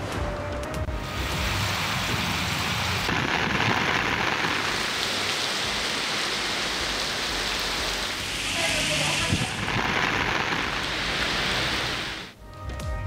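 Heavy monsoon downpour in Burewala, Punjab, roars as a dense, steady hiss of rain pounding surfaces, loud and continuous throughout with no voices.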